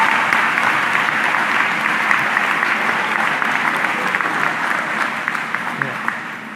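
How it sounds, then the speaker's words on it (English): Large crowd applauding graduates at a community college commencement ceremony, continuous dense clapping that holds strong and gradually thins toward the end, with a few sharper individual claps standing out. "you deserve a tremendous round of applause for that"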